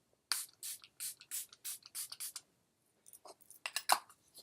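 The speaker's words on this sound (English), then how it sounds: "I'm going to spray my face first with the Milani Make It Last Setting Spray" Milani Make It Last setting spray is misted onto a face in a quiet room as a quick run of about eight short, close hissing pumps, a pause, then a few softer, more scattered spritzes.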